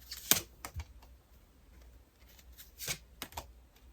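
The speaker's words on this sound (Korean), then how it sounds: "조언 카드 한번 뽑아보겠습니다" Tarot advice cards being shuffled and drawn by hand: a few sharp, isolated card snaps and flicks separated by quiet gaps, close and fairly soft, with no talking.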